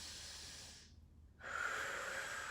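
Steady breathing during a held bodyweight stretch, a long nasal inhale, a brief pause, then a stronger, louder exhale through the mouth, close and clear with no talking.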